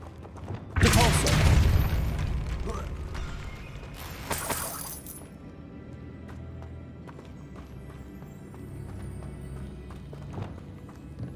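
A Depulso spell in Hogwarts Legacy blasts objects away with a sudden loud crash and rumbling burst, then a second sharp blast, followed by lower background game sounds.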